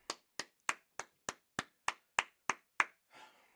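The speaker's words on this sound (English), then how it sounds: "Clap it up" About ten loud, sharp claps land in a steady, evenly spaced rhythm at a brotherhood class gathering, then a softer blurred sound closes the pattern.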